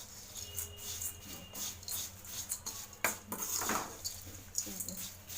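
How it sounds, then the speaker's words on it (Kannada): Fried flattened rice (avalakki) being tossed and mixed by hand in a bowl, giving soft rustling and light dry clinks of grains against the dish, with faint kitchen background. "ಫ್ರೈ ಮಾಡಿಟ್ಟಿರೋ ಅವಲಕ್ಕಿ ಹಾಕ್ಕೊಂಡು ಇವಾಗ ನೀಟಾಗಿ ಕಲಿಸ್ಕೋಬೇಕು"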